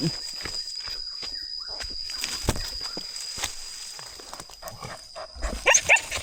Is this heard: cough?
no